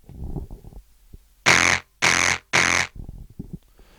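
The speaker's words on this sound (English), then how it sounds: "I'm gonna show you what it sounds like when we've got the frequencies boosted around about the 2000s" Three loud bursts of bright, harsh, screechy treble-heavy noise from an EQ boost around 2000 Hz, each about half a second long, set between quieter low rumbling sounds.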